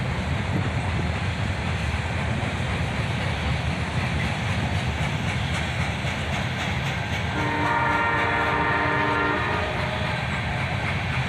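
Southbound CSX freight led by two SD-43 rebuild locomotives, a loud steady roar of engines and rolling wheels close by, with a long multi-tone horn blast midway.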